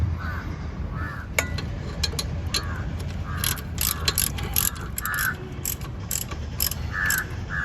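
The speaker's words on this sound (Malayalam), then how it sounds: "ഇനി ബാക്കിയുള്ള ബോൾട്ട് ടൈറ്റൻ ചെയ്യാം" A ratchet tightening lower-arm bolts on a 1999 Maruti Zen LX, quick bursts of crisp clicking repeated in short runs, with crows cawing faintly in the background.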